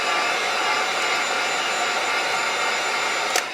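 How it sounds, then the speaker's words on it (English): A heat gun blows a steady, loud broadband whoosh while drying paint on a Manns deep diver fishing lure, running continuously with no break and ending in a brief clatter near the close. "take the heat gun, dry that just a bit"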